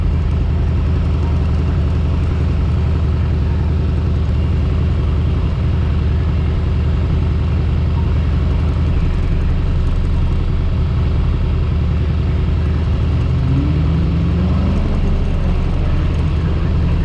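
A hot car engine idles steadily behind the casinos, a continuous low rumble filling the whole stretch at close range, with no voices and a faint rising drone near the end.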